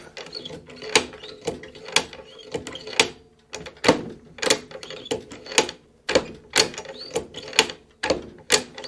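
Lightly oiled bolt on a Howa rifle chambered in 6.5 PRC being worked repeatedly: a steady rhythm of sharp metallic clacks and slides, close and clear, with no talk.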